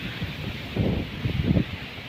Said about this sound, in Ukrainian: Вітер капець почався.